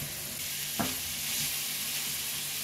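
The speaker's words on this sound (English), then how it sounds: "got the meat in the pan. Now we just want to break it down." Meat for keto tacos sizzling in a hot pan while being broken up, a close, bright frying hiss with a sharp scrape of the utensil early on and softer stirring scrapes after it, no voices.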